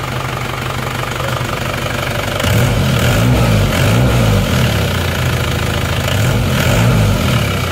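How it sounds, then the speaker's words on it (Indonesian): An Isuzu Panther car engine idles roughly and unevenly before repair, a loud close knocking rumble that shakes and surges, growing heavier and more pulsing partway through, with no talking. "Suara mesinnya seperti ini."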